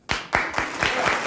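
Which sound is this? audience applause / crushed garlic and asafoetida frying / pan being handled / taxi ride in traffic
audience applause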